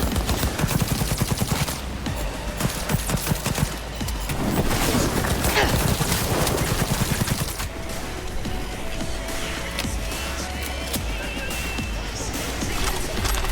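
Rifle gunfire in the video game Cyberpunk 2077, fired without a muzzle brake: rapid, loud bursts of shots in a steady stream, mixed with other game noise and crashes.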